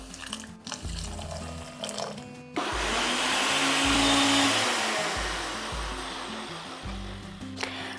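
An electric kitchen grinder whirs loudly for about five seconds, grinding poppy seeds and green chillies with water into a paste. It starts abruptly, holds a steady roar, then cuts off, with soft background music before and after.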